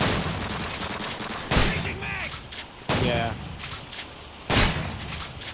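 Gunfire in the video game Modern Warfare 2: three loud, sharp bursts of shots spaced a second or so apart, each with a ringing tail, over steady game background noise.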